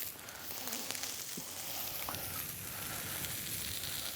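Sliced onions and potatoes sizzle on a charcoal barbecue grill with a steady soft crackle, broken by occasional light scrapes as they are moved around.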